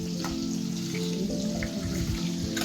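Pointed gourd (potol) slices fry in oil in a pan in a home kitchen, with a steady close sizzle and soft crackle throughout and no talking.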